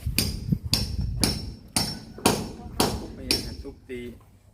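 Hammer blows on a concrete house pillar being broken open to tie rebar for a lintel beam over a door frame, five loud, evenly spaced close strikes with ringing decay.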